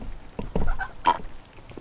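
Geese and ducks at a backyard farm pond honk and quack in a few loud, close bursts, with short gaps of quieter splashing and shuffling between calls.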